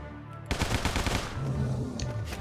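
A loud, rapid burst of AK rifle fire in the Not Dying Today game, a dense stream of close shots lasting about a second before trailing into ringing echoes and game noise.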